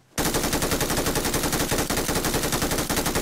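An MG3 machine gun in PUBG Mobile set to 660 rounds per minute fires one long, unbroken burst, loud and close with a steady rapid rhythm.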